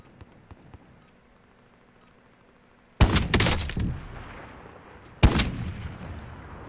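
Two sharp, loud sniper rifle shots firing normal rounds in Call of Duty Modern Warfare, a couple of seconds apart, each followed by a rolling echoing tail after a quiet stretch.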